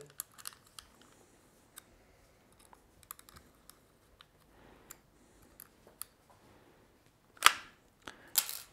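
A pistol holster accessory is taken off and refitted to the other side, giving sparse plastic clicks and small taps that end in a few sharper snaps, quiet and close with no talking.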